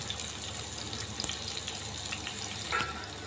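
Lotus root frying in a pan, a steady broadband sizzle and crackle running throughout with a few brief louder pops, close and alone.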